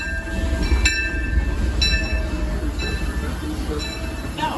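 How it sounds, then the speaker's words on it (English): A Disneyland monorail passes at a distance, a low rolling rumble with periodic tonal chimes or squeals, set against busy theme-park crowd noise and chatter. "Oh, there's a monorail over there."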